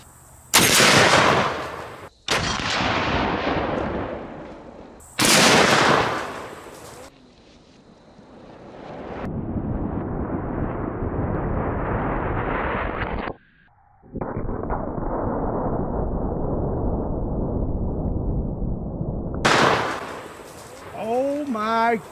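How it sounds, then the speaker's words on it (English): A Serbu BFG 50A .50 BMG rifle fires armor-piercing incendiary tracer rounds at dumbbells downrange outdoors: three sharp, very loud blasts spaced several seconds apart, each followed by a long rolling echo and wind noise, with a voice near the end. "We have a Serbu BFG 50A and we're going to start out with an armor-piercing incendiary tracer."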